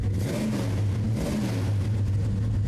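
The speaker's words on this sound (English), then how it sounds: "Rev her up a bit." A car engine is revved steadily at close range, holding a loud, even drone with a strong low hum throughout and no talking.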